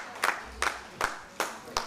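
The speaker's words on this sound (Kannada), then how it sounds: "ಸ್ಮೈಲ್ ಶಿವು ಅವ್ರಿಗೂ ಕೂಡ ಜೋರಾದ ಚಪ್ಪಾಳೆ ಬರಲಿ ಅಂತ ಕೇಳ್ಕೊತಾನೆ" A small audience claps for the organiser of a Kannada cultural event, five sharp, evenly spaced handclaps, fairly faint and distant, with no talk over them.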